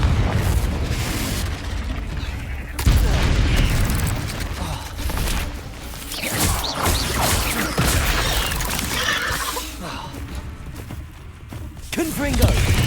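Confringo fire spell blasts in Hogwarts Legacy, booming explosions layered over a dense, continuous wash of combat noise with a sharp impact near the start and another burst at the end, with voices in the mix.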